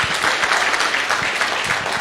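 An audience applauds steadily at a talk, a dense continuous patter of many hands clapping close by, with no voices over it.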